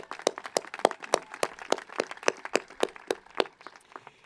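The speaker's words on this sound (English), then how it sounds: "Let's give them a round of applause." Scattered, distinct claps ring out at a university commencement ceremony, a sparse, uneven round of applause from a few hands in a large hall, moderately quiet with clear individual strikes.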